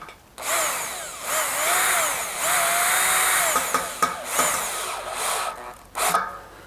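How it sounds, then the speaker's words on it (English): Cordless power screwdriver set to low torque driving screws into a metal pergola frame, several whirring bursts of a few seconds each with pitch changes as the screws seat, close and loud. "now I just use screwdriver because it's so much easier"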